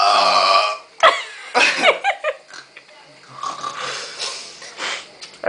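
A loud, drawn-out burp opens a home burping contest, followed by croaky belching and strained throat sounds mixed with people talking and laughing nearby.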